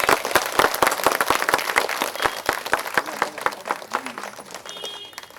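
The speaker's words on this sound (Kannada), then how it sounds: "ಸಾರಿಗೆ ಒಂದ್ಸರಿ ಜೋರಾಗಿ ಚಪ್ಪಾಳೆ" Applause from a gathered crowd at an outdoor park meditation event in Ballari, many hands clapping in a steady, dense patter that holds throughout with some louder individual claps near the front.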